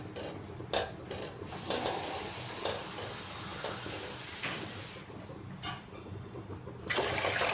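Water is poured into rice to make batter for Odia poda pitha, a broad steady splashing and gurgling that runs for several seconds at moderate level, with no speech over it.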